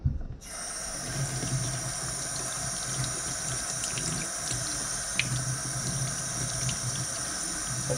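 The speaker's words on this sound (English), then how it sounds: "I'm going to rinse it off" Cured, well-dried fish is rinsed under a running kitchen tap, a steady close hiss of flowing water throughout with small splashes and no talking.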